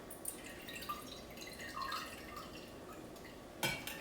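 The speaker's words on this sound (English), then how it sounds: "you'll take your julep strainer, you'll put it over the glass," Drink poured from a tin through a julep strainer into a glass: a soft, steady trickle and drip of liquid with a sharp clink of metal on glass near the end.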